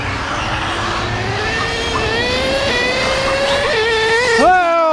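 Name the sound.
nitro RC monster truck HPI Savage XL K5.9 racing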